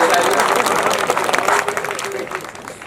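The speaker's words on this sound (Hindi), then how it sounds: "बजा दो ताली, पीछे बजा रहे" A crowd at a village satsang gathering claps in a brief burst of applause mixed with murmuring voices, and the sound trails off quickly.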